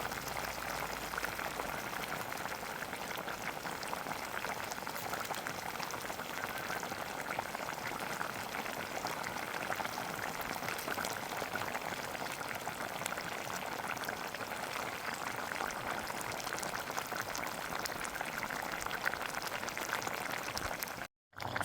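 Chicken simmers in liquid in a pot, a constant close bubbling and burbling that holds steady throughout before cutting off abruptly at the end.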